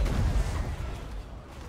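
Hell Cannon artillery in a Warhammer multiplayer battle lets off a deep, booming shot, a low rumble that rolls out and fades over about a second with no voices over it.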